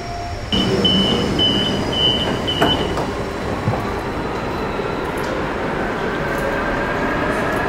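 A driverless tram on Istanbul's Eminönü tramline rolls along steadily with a broad rumble and a high whine, a short tone sounding near the start.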